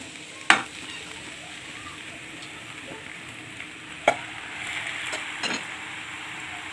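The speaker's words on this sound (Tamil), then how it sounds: "இது பாருங்கள், நான் கலந்துகிட்டே இருக்கேங்க. இந்த மாதிரி நல்லா கலந்துக்குங்க." Spicy pasta with egg being stirred in a frying pan gives a soft, quiet sizzle broken by a few sharp utensil clicks and scrapes against the pan.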